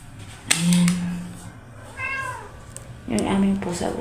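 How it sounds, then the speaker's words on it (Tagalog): A house cat meows repeatedly, wanting to go outside, with three distinct close, loud calls spaced apart and quiet pauses between them in an indoor setting. "Yung aming pusa gusto niyang lumabas."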